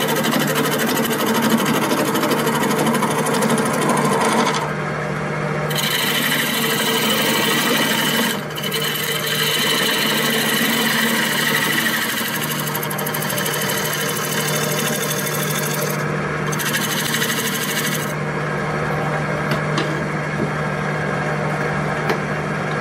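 A wood lathe turns a box while a pointed diamond cutting tool works it, giving a steady motor hum under hissing scraping cuts that stop and start in long stretches.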